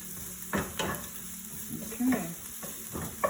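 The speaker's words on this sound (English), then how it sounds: "We'll take the garlic over and the sauce. You see them sizzling away" Garlic and sauce sizzle quietly in a pan while a utensil stirs them, soft scraping bursts over a faint steady frying hiss.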